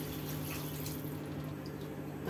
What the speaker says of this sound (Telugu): ముందు కొంచెం వాటర్ పోసుకుందాం